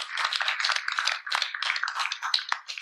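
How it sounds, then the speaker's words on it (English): Applause from an audience honoring volunteers at a community town hall ceremony at Camp Humphreys, a steady crowd clapping with crisp, scattered hand claps rising and falling for about three seconds, with no talking over it. "How about another round of applause for all those folks?"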